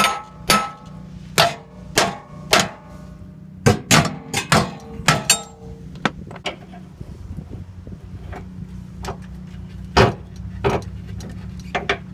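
A hammer strikes the rear subframe of a Nissan S14 240SX, a string of sharp metallic blows, some in quick clusters and others spaced out, ringing against a steady low hum.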